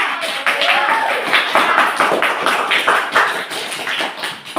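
A group of children clap their hands together in a classroom, a dense, uneven patter of many small palms that stays steady and fairly loud throughout, with a few faint voices mixed in.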